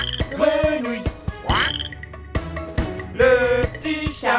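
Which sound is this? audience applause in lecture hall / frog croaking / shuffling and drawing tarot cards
frog croaking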